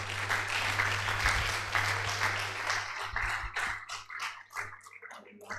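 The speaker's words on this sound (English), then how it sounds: "Professor Temidayo Gudera, please a round of applause one more time for the Provost of our College of Medicine" An audience at the University of Ibadan's 60th anniversary ceremony for its nursing programme applauds loudly. The clapping thins into sparse, separate claps as it dies away, over a low steady hum.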